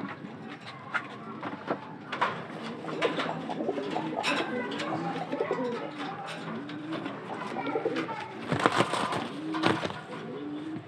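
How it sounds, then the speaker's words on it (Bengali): A young maxi racer pigeon, held in the hand for a pigeon holder, coos softly in repeated low bursts, close by, mixed with light rustling and small handling clicks. "আমার একটা কবুতর নিচ্ছি আপনাদের দেখানোর জন্য।"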